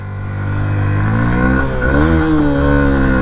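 A Honda CBF 125 motorcycle engine revs loudly and close up, its pitch climbing and dipping through several throttle blips with no talk over it.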